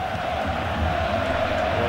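A stadium crowd roars after a goal in the football game FIFA Online 3, a steady, loud wall of cheering with no breaks, carrying through the whole moment without distinct voices.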